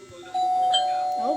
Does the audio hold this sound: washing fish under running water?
no